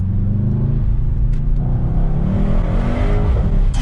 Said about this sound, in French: écoutez-moi ce bruit encore une fois